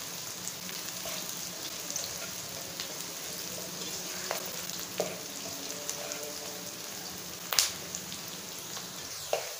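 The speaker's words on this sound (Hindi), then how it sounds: "तो ये प्याज हमारे फ्राई हो रहे हैं अच्छे से।" Chopped onions frying in a pan for a beef karahi, a soft steady sizzle like light rain with occasional sharper pops and stirring scrapes, faint and without talking.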